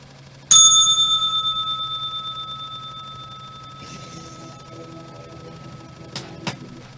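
A single bright bell strike rings out sharply and sustains with a long, clear decaying tone over several seconds, followed by a few faint knocks and rustles near the end.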